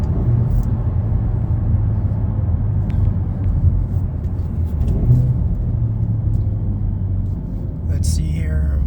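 A 2025 Hyundai Elantra N makes a U-turn, its engine giving a steady, close rumble with a slight rise near the end.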